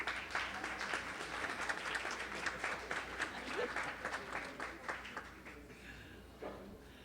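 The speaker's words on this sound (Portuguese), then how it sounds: "Pode aplaudir, viu, gente?" Steady applause from an audience, dense clapping that continues for several seconds before thinning out toward the end.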